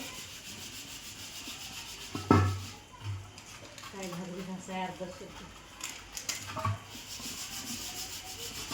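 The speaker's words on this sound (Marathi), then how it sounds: "पितळच्या घागरी आणि पिंप वगैरे सगळं घासून घेतलं" Rough rubbing and scrubbing of brass water pots and a drum, with occasional clanks, while someone talks nearby in the background.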